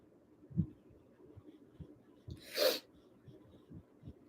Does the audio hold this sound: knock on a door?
no